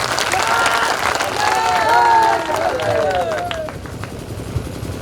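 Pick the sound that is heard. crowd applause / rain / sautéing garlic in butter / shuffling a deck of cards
crowd applause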